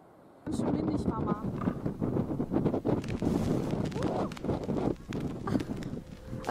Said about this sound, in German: Ganz schön windig